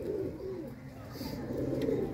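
Pigeons cooing in low, soft, continuous murmurs close by, with faint background noise and brief chirps; no clear talk over them.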